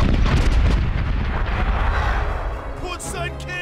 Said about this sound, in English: Oh my god, the cannon shooting is ridiculous.